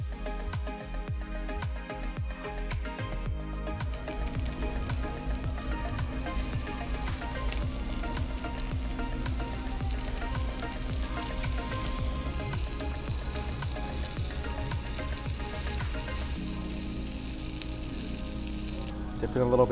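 A5 Wagyu beef sizzles on a barbecue grill in a Miami restaurant, giving a continuous crackling fry with faint clinks, while voices talk quietly throughout.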